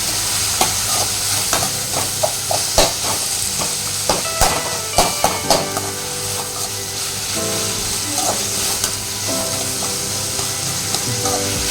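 Tomatoes sautéing in a pan for a drumstick kara kuzhambu, with a loud steady sizzle and repeated scraping, tapping stirs throughout; no one speaks.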